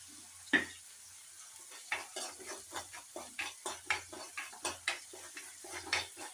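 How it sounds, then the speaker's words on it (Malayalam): Onion sautéing with ginger garlic paste in a pan, a soft sizzle under repeated spatula scrapes and stirring clinks against the pan in an uneven rhythm, quiet and close. "ഇതിൽ ഈ സവോള ഇട്ട് വഴറ്റാം. ജിഞ്ചർ ഗാർലിക് പേസ്റ്റ് ഇട്ടിട്ട് അതുപോലെ തന്നെ കുറച്ച് ഉപ്പ്,"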